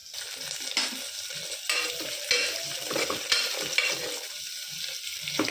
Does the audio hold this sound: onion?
yes